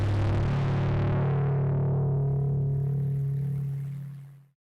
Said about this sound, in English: absolutely demolishing a low taiko hit and tuning it to the root of the chord